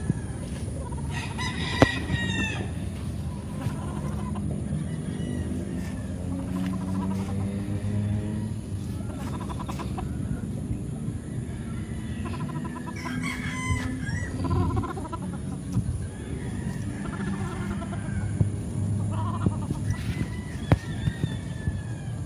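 Chickens cluck steadily while roosters crow now and then, a busy farmyard chorus with a constant low background rumble.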